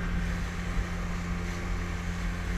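A small motorboat cruises over water, its engine a steady, close drone with a constant hum and wash of spray and wind, no voices over it.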